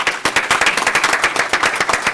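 Audience applause at a city council meeting, with dense, fairly loud clapping from a room of people that pulses steadily for about two seconds with no voices.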